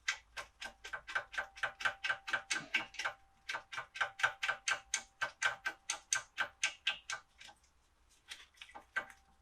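Rapid ratchet-like clicking as 10mm brake caliper bolts are wound in on a Vauxhall Mokka, close and crisp, in two long even bursts with a short pause between.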